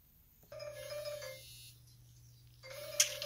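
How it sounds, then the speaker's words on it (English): A phone ringtone plays for an incoming call. It sounds as a bright, sustained electronic tone that stops briefly and then resumes, close and fairly clear over a low steady hum. "Phone call coming in."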